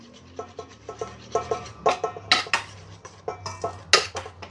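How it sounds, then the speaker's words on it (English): A utensil folds dry mix into zucchini fritter batter in a bowl, giving a close series of uneven scraping, knocking strokes against the bowl in a loose rhythm, with no talking. "I'm going to take the dry mix and I'm going to start folding it in"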